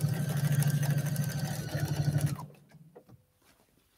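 A sewing machine stitches down quilt binding in a fast, steady mechanical whir that runs loudly for a couple of seconds, then stops abruptly, leaving a few soft clicks and near silence.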